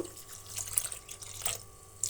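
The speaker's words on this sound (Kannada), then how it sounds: "ಈ ದಪ್ಪದಾದಂತಹ ಒಂದು ಚೆಂಬು ನೀರನ್ನು ಸೇರಿಸ್ತಾ ಇದ್ದೀನಿ." Water poured from a thick metal jug into a cooking pot while making chayote dal, a faint, steady splashing stream lasting about two seconds with no talk over it.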